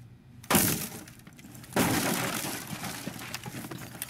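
A hammer smashes through glass in the video game Rainbow Six Siege, with two loud shattering crashes about a second apart, each followed by scattered tinkling debris.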